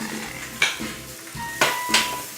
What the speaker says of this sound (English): a little bit of garlic too, and I'm just going to saute this up